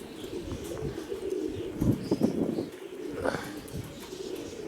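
Pigeons in Mykolaiv coo and flutter nearby, low burbling calls mixed with bursts of wing flapping and scattered chirps over faint outdoor background.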